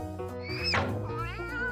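Cartoon-style cat meow in a toddler animal-sounds lesson, a short rising and falling synthetic meow over a musical background, with a brief voice.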